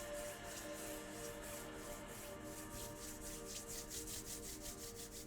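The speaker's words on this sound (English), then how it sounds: "You can even rub the palms together." Palms rub together during a calm guided relaxation, a soft continuous brushing friction with steady back-and-forth strokes, faint and close with no voices.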